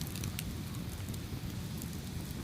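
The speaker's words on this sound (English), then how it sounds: "So we have Crackling Fire" A crackling fire burning steadily and close, with dense low rumble and scattered sharp pops and snaps throughout, no voices.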